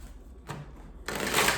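Quick riffle of tarot cards being shuffled, a short flutter followed by a louder, denser burst of papery clicking.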